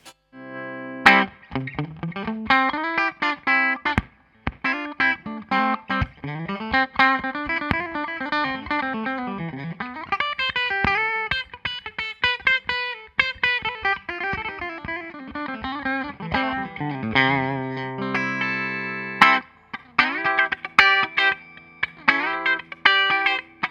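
A Michael Kelly 1957 electric guitar on its bridge pickup plays a bright, twangy lead with quick picked notes and bends, clean and close, with brief gaps between phrases.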